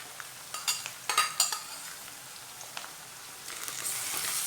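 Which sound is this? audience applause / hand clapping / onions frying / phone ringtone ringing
onions frying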